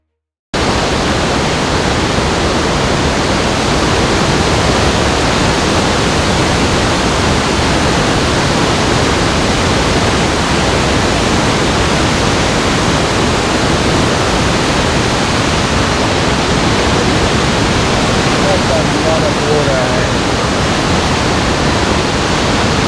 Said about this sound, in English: the waterfall reveals itself gradually, bit by bit